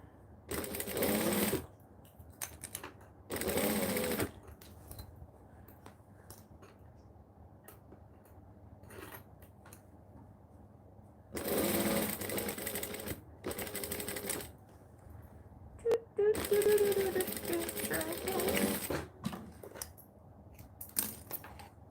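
A sewing machine runs in short bursts of rapid stitching separated by pauses, fairly close and moderately loud, with faint clicks and handling noise between runs.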